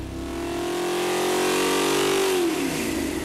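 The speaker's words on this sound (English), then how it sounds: "We gave him the honor of running it on the dyno." Small-block engine in a 1968 Mustang Fastback track car revving hard on a dyno, a loud close roar climbing steadily in pitch for about two seconds before easing off.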